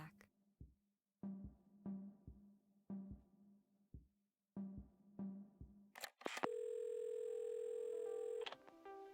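A telephone in the Assemble with Care video game plays a series of short tonal beeps, like number keys being pressed, and then a steady, clear dial tone that holds for about two seconds.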